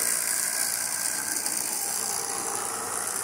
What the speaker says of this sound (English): The Parmele engine has double motors, and through a combination of chains and gears,